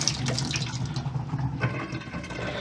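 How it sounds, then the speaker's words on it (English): Water running and draining through a newly installed sink and its pipes underneath, a steady close gurgling wash with sloshing that continues for a few seconds, with no speech. "And you can hear it draining under there"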